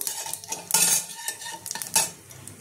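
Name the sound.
whole cumin and bay leaf tempering in hot oil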